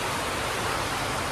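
Heavy water flows hard during a typhoon, a dense, constant roar of rushing water filling the short stretch without pause or voices.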